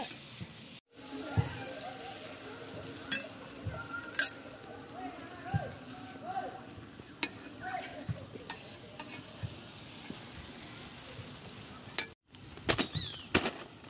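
Vegetables sizzling in a wok with salt, turmeric and a splash of water, with a steady crackling fry, occasional stirring clatter and brief dropouts.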